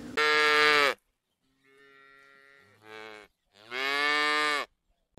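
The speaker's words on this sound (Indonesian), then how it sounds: "Ini si sapi lagi makan rumput, teman-teman." Cow moos from a yellow cow grazing in a dinosaur-hunting video game, three long loud bellows with a softer lower call between them, no talk.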